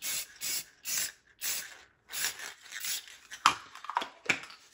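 A spray can sends out short, even bursts of matte clear enamel onto a printed and painted pop art piece. The hissing blasts are close and rhythmic, and they break into shorter, uneven sprays near the end.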